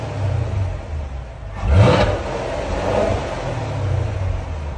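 A 2021 Chevy Camaro LT1 with a 6.2L V8 on its stock exhaust, idling with a low rumble before one short, loud rev that rises and falls within about a second, then settles back to idle.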